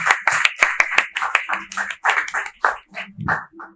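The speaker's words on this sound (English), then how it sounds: "Let's give him a round of applause, please." Rapid, uneven clapping from a small group at a graduation ceremony, close and fairly loud, a steady patter that gradually thins out toward the end.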